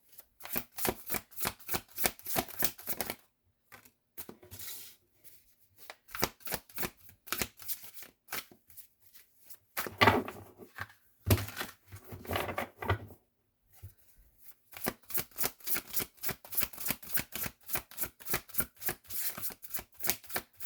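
A deck of oddly shaped cards is shuffled repeatedly, with rapid riffling bursts of crisp flutter separated by brief pauses, close and alone.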